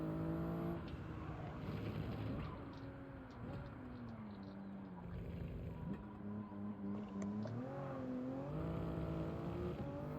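Race cars in a GTA-style video game, engines revving and whining with rising and falling pitch as they accelerate and shift, a continuous layered motor drone at low level.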